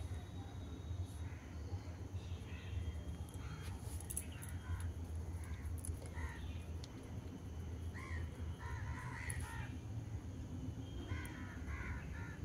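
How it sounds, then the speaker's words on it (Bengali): Crows caw repeatedly in short, clear calls against a constant low hum, fairly distant and spread through the stretch, with no clear talk. "কি ডাকলো? কাক ডাকলো?"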